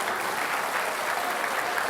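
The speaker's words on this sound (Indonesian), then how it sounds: "Kita kasih tepuk tangan untuk kedua kandidat." Dense, sustained applause from a large audience at a televised Jakarta gubernatorial debate, a steady wash of many hands clapping together at moderate volume.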